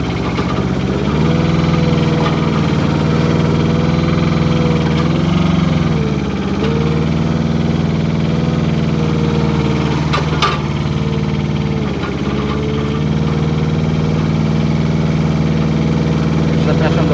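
Avant ProfiCat 4x4 mini loader with a Kubota diesel engine turning on the spot, its engine droning loud and close with a steady hum that dips and rises slightly as the machine maneuvers.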